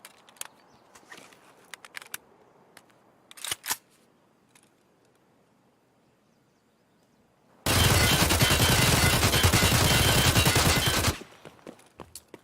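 Spray fire from an AK-74M rifle with 100-point recoil reduction in Escape From Tarkov: a few scattered single shots, then one loud, sustained burst of rapid automatic fire lasting about three seconds, followed by a couple of trailing shots.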